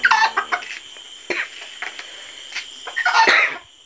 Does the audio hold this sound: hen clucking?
yes